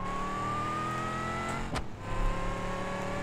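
A Subaru Alcyone SVX in the BeamNG Drive driving game accelerates, its steady engine drone rising slowly in pitch, with a brief whoosh midway; close, continuous and with no talk.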